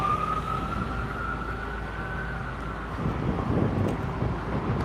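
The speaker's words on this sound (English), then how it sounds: "Now I hear sirens." A distant emergency vehicle siren wails with a slowly rising and falling pitch over wind and low outdoor rumble in Kingston, with no voices.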